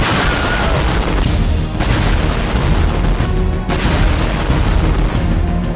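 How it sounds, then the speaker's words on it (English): A giant explosion tears through a city built of bricks in a video game, a loud, continuous roaring rumble with crashing debris that fills the whole stretch without letup. "I'm gonna see if this city can survive a giant explosion."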